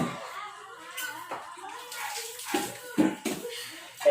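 A lemon is washed under running water from a tap, splashing in uneven bursts with hands rubbing the fruit, fairly quiet and close, with soft voices briefly in the background.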